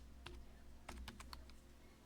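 Quiet keystrokes on a computer keyboard make a short burst of typing, with one tap and then a quick cluster of clicks close by against a faint background hum.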